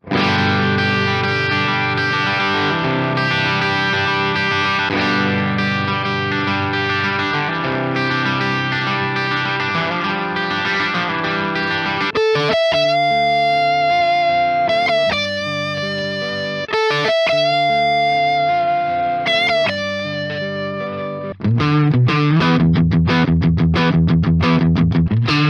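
A Gibson Les Paul Standard and a Les Paul Deluxe with P90 pickups played through heavy distortion with chorus and echo effects: dense sustained chords, then choppy, stabbed riffs with sharp note attacks, loud throughout and without talk.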